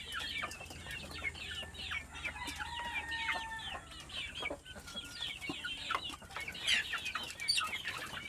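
Several chickens cluck and chatter steadily during feeding, a busy mix of short calls from a small flock at moderate distance with no talking over them.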